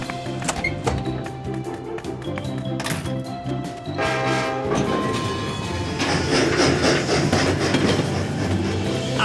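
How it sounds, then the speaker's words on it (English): A cartoon train approaches with a rumbling, clattering roll and whistle-like tones, growing fuller and louder partway through. "there's a train heading straight for us"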